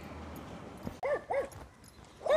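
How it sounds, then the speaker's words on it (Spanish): Three sharp dog barks sound at a moderate distance, spaced unevenly over a low background rumble with no talking. "Basta, ¿por qué me ladran?"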